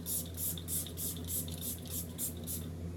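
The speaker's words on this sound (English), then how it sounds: "the two together makes like the best setting spray ever" A small bottle of setting spray, a rose water mix, gives a run of quick rhythmic spritzes, about nine evenly spaced hisses heard up close with no talking.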